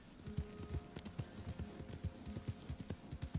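Horse hooves clip-clop steadily in a Red Dead video game while riding, a close, even run of hoofbeats with no break.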